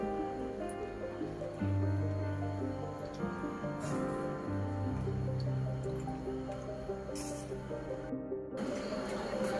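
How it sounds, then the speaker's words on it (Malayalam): Salt water is poured into coconut milk while cooking Kerala-style nirvana: soft liquid trickles and drips with occasional gurgles, close and steady, with no speech. "ഇനി തേങ്ങാപ്പാലിലേക്ക് നമുക്ക് അതിൽ ഉപ്പ് നീര് ഒഴിച്ചു കൊടുക്കാം"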